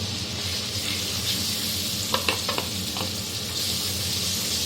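Onion puree fried with turmeric and red chili powder for paneer do pyaza is stirred in a pan, with a steady sizzle under a few brief scraping clicks and no talking.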